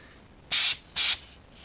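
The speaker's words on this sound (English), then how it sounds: "here we go with a little light tack coat" Spray gun laying a light tack coat of paint on a car: two short, loud hissing bursts, each about a quarter second, separated by a brief pause, with no one talking.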